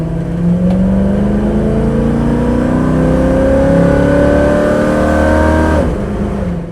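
A 1970 Ford Mustang with a stock 302 V8 and automatic transmission revs up steadily from inside the car, engine pitch climbing continuously and then dropping sharply near the end as the gearbox shifts.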